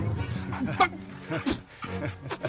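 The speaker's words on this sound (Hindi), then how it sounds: "कुत्ता क्यों भौंक रहा है?" A dog in a Bollywood comedy scene gives a few short yips and whimpering barks in bursts, fairly close, mixed with background movie sound and some voices.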